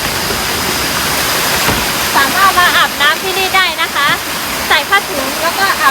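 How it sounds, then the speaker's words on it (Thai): A waterfall of clear, cold water pours with a steady, loud broadband rush, while someone talks over it. "นี่คือน้ำตกค่ะ"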